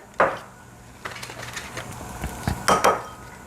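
An egg cracked and dropped into a sandwich maker, with a sharp shell tap near the start followed by small clinks and knocks of shell and metal, ending in a couple of clustered cracks, close and quiet.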